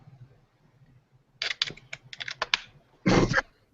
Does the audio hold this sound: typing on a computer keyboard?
yes